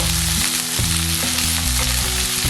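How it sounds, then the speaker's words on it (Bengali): Dried chilies and chepa shutki (fermented dried fish) fry and sizzle hard in a pan, with a constant loud hiss and rhythmic scraping thumps as the mixture is stirred. "শুকনো মরিচ এবং চাপা শুক্তিগুলো দিয়ে আবার নাড়তে হবে"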